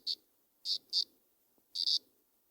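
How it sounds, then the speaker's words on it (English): Male cicadas give courtship calls: short, harsh buzzing bursts, some single and some paired, separated by quiet gaps and fairly close. "Cicadas are large insects made conspicuous by the courtship calls of the males."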